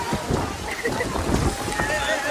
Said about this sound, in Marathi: खूप खूप खूप जास्त पाऊस यायला लागला गाईज